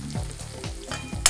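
Onions frying in a pan for jeera aloo, a soft close sizzle with a few spoon scrapes and stirring strokes through the short stretch, ending in a brief brighter hiss.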